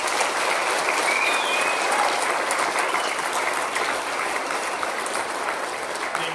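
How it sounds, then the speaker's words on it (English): An audience at a 2017 graduation ceremony gives the graduates a sustained round of applause, dense steady clapping from a large crowd that fills the whole stretch without letting up. "Could we give them one more round of applause?"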